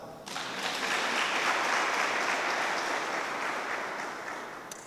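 Students clapping at a school's 70th anniversary celebration: dense, sustained applause that swells quickly, holds steady for several seconds, then starts to thin out.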